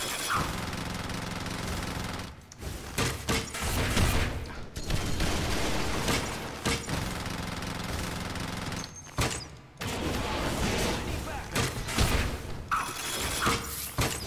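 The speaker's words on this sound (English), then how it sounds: "Fucking turrets. Fucking turrets hurt." Turrets fire in the DC Universe Online video game: dense, loud sustained bursts of rapid gunfire and mechanical clatter, broken by a few brief pauses.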